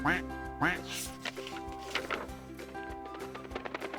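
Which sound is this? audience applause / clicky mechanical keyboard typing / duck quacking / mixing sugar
duck quacking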